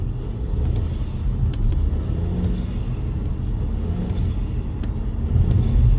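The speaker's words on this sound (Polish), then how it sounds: "Dodatkowo dość głośno słychać syk turbiny," Steady low rumble of a Volkswagen Polo 1.0 TSI three-cylinder turbo petrol with DSG, idling or creeping in traffic, a continuous close engine drone with faint turbo hiss, no voices.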